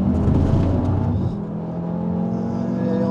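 Audi RS3 with a 400 hp engine accelerating hard at high speed, a loud, steady engine drone with rising whine heard from on board, no talk.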